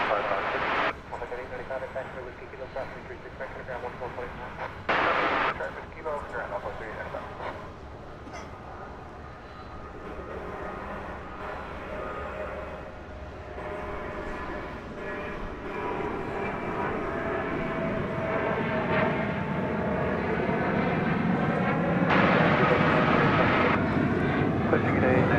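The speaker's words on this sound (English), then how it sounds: "This is the United flight to San Francisco." A United airliner bound for San Francisco rumbles at a night airport, its engine noise swelling gradually from faint to louder, while a voice talks intermittently over it.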